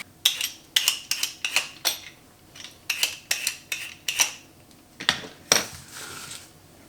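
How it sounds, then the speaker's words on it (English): A speed peeler skims the skin off a butternut squash in quick strokes, each a sharp, bright scrape-click close by. Bursts come in a rapid uneven rhythm with brief pauses between runs, over a quiet background. "we're going to use a speed peeler just to skim the squash"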